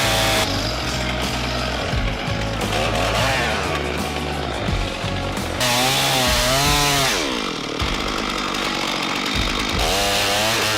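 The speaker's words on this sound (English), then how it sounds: "the saw slices into the bark with a steady hum" A chainsaw roars loudly and continuously, its engine revving up and down as it bites into the bark of a tree trunk.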